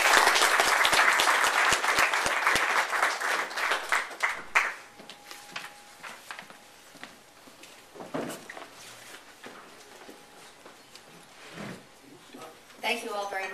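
An audience at an economists' club event welcomes a speaker with loud, sustained applause that fades after a few seconds, followed by a voice talking into a room microphone.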